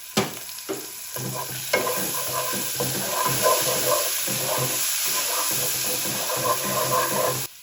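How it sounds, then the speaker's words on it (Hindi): Water is poured into a hot pan of turmeric and salt while cooking white radish, setting off a steady hiss and sizzle with occasional stirring scrapes close by. "और इसमें थोड़ा सा पानी ऐड कर देंगे"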